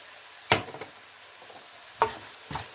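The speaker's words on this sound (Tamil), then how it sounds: "இப்போ இந்த தக்காளி பழம் நல்லா கரையிற மாதிரி வர வரைக்கும் இதை கொஞ்சம் நாங்கள் வதக்க வேணும்." Tomatoes with curry chilli powder sauté in a pan for podi idli, with three distinct scraping stirs of the spoon against the pan over a faint background sizzle.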